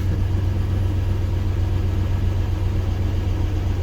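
A farm truck engine runs steadily at idle, a constant low rumble with a mid-range drone, close and unchanging throughout with no voices.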